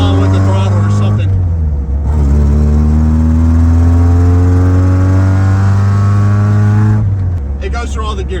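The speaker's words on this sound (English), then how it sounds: "The exhaust is really bad on it, and it smokes a lot." An old, barely running Mazda Miata engine revs loudly and close by, its bad exhaust droning and climbing steadily in pitch before easing off; the car smokes a lot and has a throttle fault.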